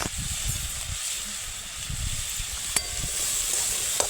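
Pumpkin pieces and curry leaves sizzle steadily in a hot pan during stir-frying, a constant close hiss with a few soft stirring knocks underneath.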